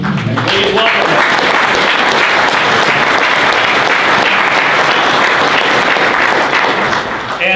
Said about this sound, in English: Special round of applause for all of our guests.